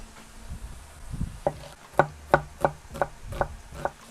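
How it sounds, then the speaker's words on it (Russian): Onion being finely diced with a knife on a board, a run of about ten crisp, evenly spaced chops close by, speeding up slightly after a few softer cuts at the start. "Репчатый лук нарезаем мелким кубиком."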